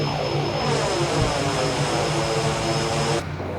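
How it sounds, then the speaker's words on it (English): Simulated Dornier Do 228 turboprop in a flight simulator game applying propeller reverse thrust, a loud, broad roaring whir with a steady high whine that cuts off abruptly near the end. "you can hear pretty much the reverse sound that you can expect"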